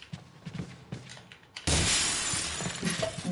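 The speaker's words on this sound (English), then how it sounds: "John Hex, break the glass." Glass smashes in Resident Evil 4 after a few soft thuds and footsteps, a sudden loud shatter followed by scattering shards and tinkling debris, close and without speech.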